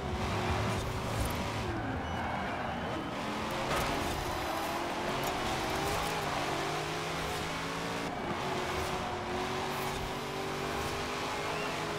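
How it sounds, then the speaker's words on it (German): A Dodge's engine roars steadily in Forza Horizon 4, a continuous loud drone with shifting revs and gear changes as the car races along, with no speech over it. "Ich will den Dodge nicht hören, bitte."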